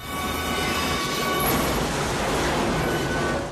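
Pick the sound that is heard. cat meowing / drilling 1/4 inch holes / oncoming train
oncoming train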